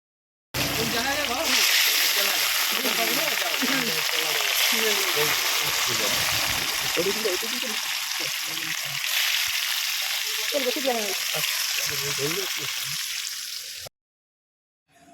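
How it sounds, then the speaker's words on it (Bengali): Fish frying in oil in a wok-style pan, a steady loud sizzle and crackle running throughout, with a voice talking over it for most of the clip before it cuts off abruptly. "এই যে মাছ ভাজা চলছে দেখো"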